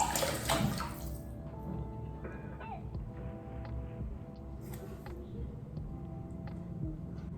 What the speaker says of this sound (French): je vais rincer un peu et du coup je rince un peu